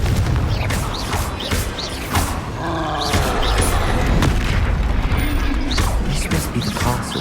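Confringo blast spells fired in Hogwarts Legacy, several loud booming, crashing bursts scattered over a dense, continuous game soundscape with mechanical clatter.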